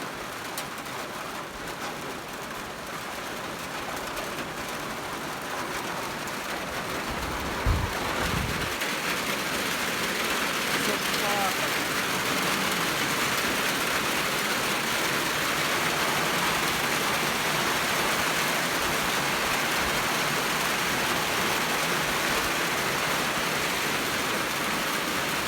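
Steady rain falls outdoors, a dense, even hiss of drops pattering on surfaces that continues without a break, with a brief low thump partway through.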